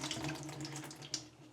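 Water pours and splashes out of a clogged sink's U-trap as it is taken off, a brief continuous gush with a small splash near the end.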